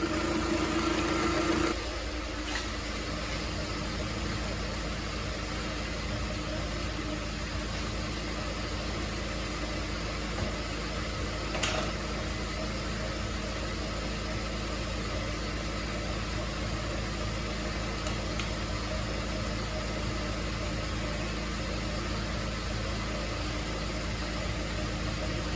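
A Kia Sorento 2.4 engine idles steadily while warming up, a constant low hum with faint vibration, heard close and alone after a brief clunk at the start.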